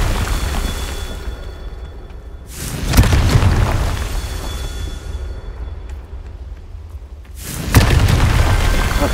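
Two loud, deep explosive blasts from the Confringo spell in the video game Hogwarts Legacy, each a sudden boom with a rumbling tail, spaced about five seconds apart over a low ambient bed.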